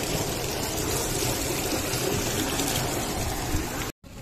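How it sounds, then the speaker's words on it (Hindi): Water pours steadily from an old well in Madinah, a continuous close splashing flow that fills the scene loudly on its own before cutting out briefly at the end. "इसका पानी यहाँ पे आ रहा है, ये देखिए कितना प्यारा पानी"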